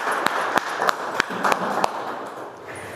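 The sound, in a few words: audience applauding speaker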